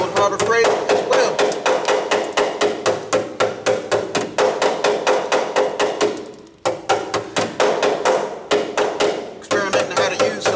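Dozens of sharp metallic hammer-on-dolly taps strike a rusty 1998 Ford Ranger 4x4 rocker panel, coming in fast, loud, close bursts with brief pauses between runs.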